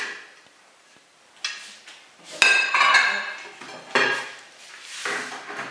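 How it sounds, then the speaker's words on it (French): White cutlery and dishes set down on a table for an Easter meal, giving a few separate clinks and clatters of china and metal close by, with quieter handling between them and no talking. "J'ai pris des couverts tout blancs comme ça."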